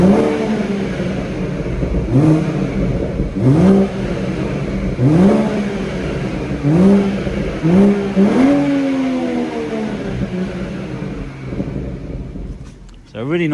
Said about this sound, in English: so a really nice burble from the engine